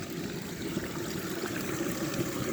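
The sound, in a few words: water flowing in a drain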